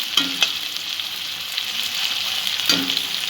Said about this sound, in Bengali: পেঁয়াজটা যতক্ষণ না লালচে রং আসছে এবং নরম হচ্ছে ততক্ষণ পেঁয়াজটা আমি ভাজবো।